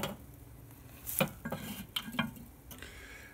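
Charcoal briquettes dropped one by one with long tongs onto a pile in a stone grill, giving a few sharp clinks and scrapes spaced out over a quiet background.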